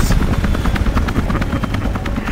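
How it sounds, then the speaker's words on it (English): A helicopter lands in the video game Army of Two: The 40th Day, its rotor beating loud and close in a rapid, even chop throughout. "The chopper's landing."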